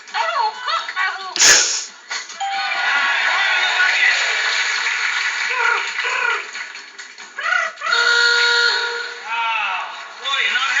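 A person imitating bird calls in a lively string of clucks, squawks and warbling chirps, loud and close, broken by a sharp sudden burst.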